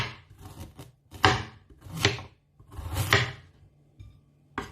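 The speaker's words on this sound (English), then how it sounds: "So after peeling the carrot, what you are going to be doing is just to slice it." A knife slices through a peeled carrot on a board in a few distinct crunchy cuts with short pauses between, close and moderately quiet.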